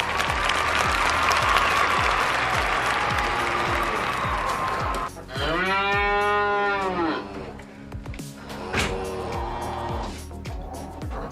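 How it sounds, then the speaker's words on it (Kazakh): A cartoon cow gives a long, loud, clear moo, heard alone after a busy stretch of music and rhythmic clatter, and followed by more cheerful cartoon music. "Дұрыс, бұл сиыр."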